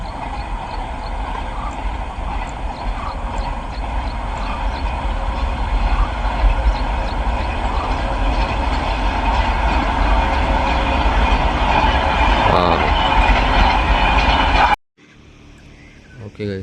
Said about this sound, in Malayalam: ട്രെയിൻ പോകുന്നുണ്ട്.